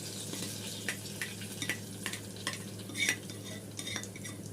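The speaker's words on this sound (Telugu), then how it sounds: "ఇలా చూపిస్తున్న విధంగా ఆనియన్స్ అనేది బాగా ఫ్రై అవ్వాలి." Onions sizzle steadily in hot oil as a tempering for cucumber dal, with a few scraping stirs and light clinks of a utensil against the pan; no voices.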